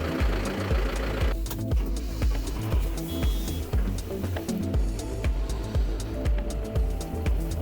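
John Deere 6320 tractor with a 100 hp engine running, a steady low rhythmic diesel chugging with regular pulses, close and moderately loud, with no talk over it.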